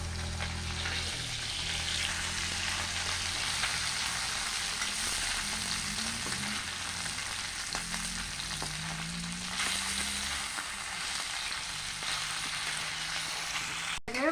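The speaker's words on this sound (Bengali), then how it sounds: "সব মাছ কয়টা এইভাবে ভেজে নিচ্ছি" Fish pieces frying in hot oil in a pan give a dense, steady sizzle that runs close and even for the whole stretch, with faint scraping partway through and no voices.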